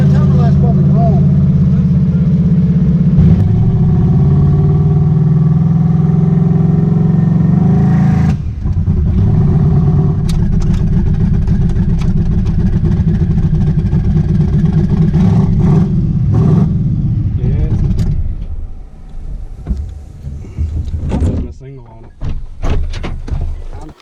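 A tunnel ram turbo car engine on a street dyno holds a loud, steady drone for about eight seconds, then roars and fluctuates, and finally drops into sputtering, uneven bursts and pops; someone talks over parts of it.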